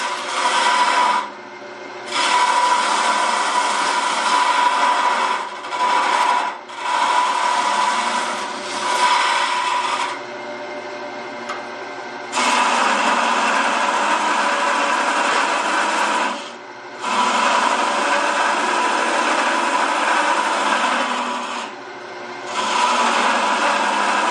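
A wood lathe turns a tenon on a cryptex box, loud bursts of whirring, rasping cutting that start and stop repeatedly with short pauses between passes.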